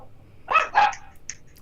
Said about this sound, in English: Apparently, the dog is excited about it too.